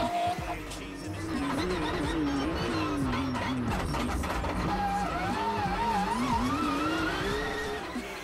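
A V8 rally car revs hard and accelerates, its engine note climbing and wavering continuously and loudly for several seconds, close by, with no talk over it.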